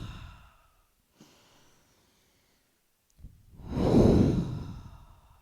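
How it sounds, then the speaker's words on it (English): Deep clearing breaths during a grounding meditation: a short breath fades out, then after a pause a long, loud, airy exhale swells and slowly tails off, heard close and alone. "Take a few clearing breaths."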